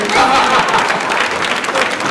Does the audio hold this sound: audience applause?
yes